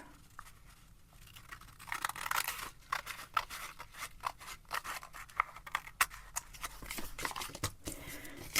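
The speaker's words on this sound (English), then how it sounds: "And then I'm going to trim these off." Scissors trimming paper journal tags, a run of quiet close snips and rustling paper scrapes in an uneven rhythm, with no voices.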